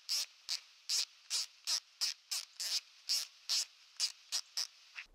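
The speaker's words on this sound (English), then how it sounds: "let me put the microphone right up there so you can hear the turrets because they are very quiet" Turrets on a Primary Arms SLX 3-18x50 Gen2 rifle scope clicking close to the microphone: a quick run of about fifteen short, crisp ticks at an uneven rhythm, fairly quiet, with no voices.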